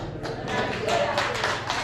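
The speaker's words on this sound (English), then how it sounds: "I saw who was clapping" Scattered clapping from a small group, a few hands tapping irregularly, moderately close with a murmur of room noise.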